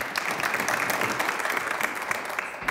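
Steady applause fills the House of Assembly chamber, a dense, even patter of many hands clapping without pause.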